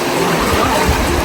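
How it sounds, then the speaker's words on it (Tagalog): A strong, fast river that people must wade across on a day-long jungle trek rushes loud and close in a dense, continuous wash of flowing water. "Medyo malakas na yung tubig."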